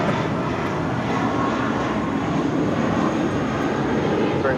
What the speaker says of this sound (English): That is Spirit 816 departing to Kansas City on an A320